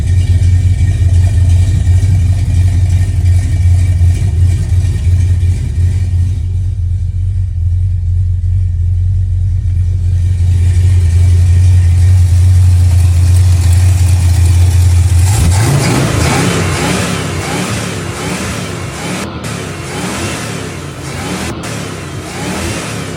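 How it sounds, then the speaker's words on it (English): Ford Capri engine breathing through new dual full-boar mufflers, idling with a deep, loud rumble, then revved repeatedly into a harsher, rising roar that wavers and settles. "Got the exhaust on, sounds great, pretty happy with it."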